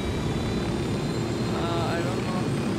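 A helicopter flying in the video game Ghost Recon Wildlands gives a steady, loud rotor and engine roar that holds without a break from start to finish.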